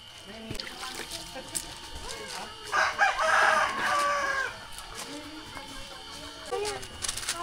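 A rooster crows loudly once in the middle, a long rising then falling call, amid scattered background chatter and shorter clucks at a family day gathering in Bani, Pangasinan.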